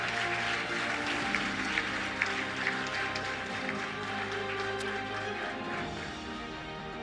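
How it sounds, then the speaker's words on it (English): Steady applause from an audience at an alumni lecture fills the space, a sustained wash of clapping with a few sharper claps standing out. "Shall we do a big round of applause for him?"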